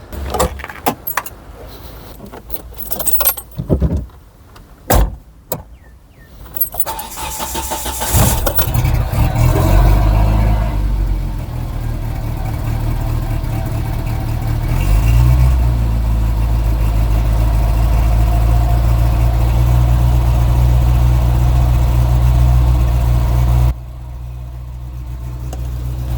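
Keys jangle and clunk, then a car engine cranks, catches and settles into a loud, steady idle that continues to the end.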